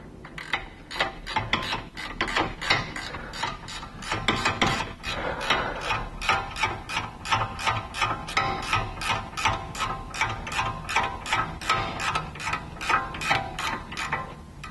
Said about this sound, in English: Now, we're going to go ahead and tighten down our ball joint nuts.